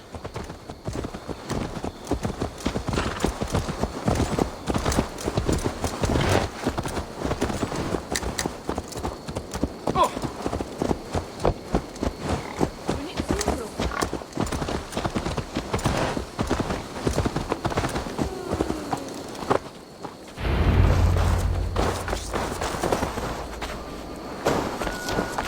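Horse hooves clip-clop in a steady walking rhythm inside Assassin's Creed Valhalla, continuous and fairly close, then stop near the end as other game sounds take over.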